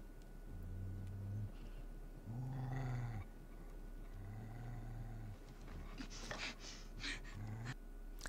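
German Shepherd growling in an episode of Fallout, four low, drawn-out growls spaced a second or so apart, with rustling and scuffing noises near the end, all at a modest level.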